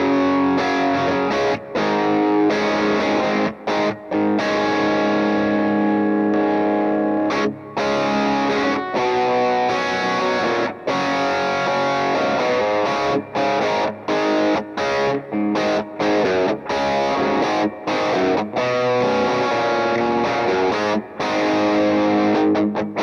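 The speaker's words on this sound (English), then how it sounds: "use this pedal to both layer and stack with the drive channel as well as push the front of the amp." Electric guitar through a Tone City Bad Horse overdrive pedal stacked with an amp's drive channel, playing a dense, loud, saturated riff with chugging palm-muted stops and sustained distorted chords throughout, no talk.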